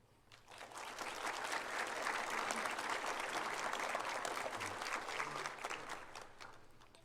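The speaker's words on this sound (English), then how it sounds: "Would you join me in a round of applause for our chiefs, county admin, and the county commissioners" An audience at a fire department shift pinning ceremony gives a round of applause for chiefs and county officials, clapping swelling up, holding steady for several seconds, then tapering off, fairly distant.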